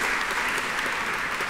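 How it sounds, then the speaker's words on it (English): An audience at a business overview meeting gives a round of applause, a short, dense burst of many hands clapping, steady and fairly loud, with no voices over it. "give yourselves a round of applause"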